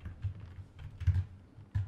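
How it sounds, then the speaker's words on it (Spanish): Quick bursts of keystrokes on a Genius gaming keyboard, a few soft clattering clusters of taps close by with short pauses between them, heard alone. "Escuché ese teclado y pensé que era que había alguien encima de mí."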